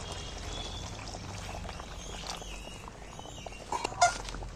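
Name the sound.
water being poured into cooking chicken curry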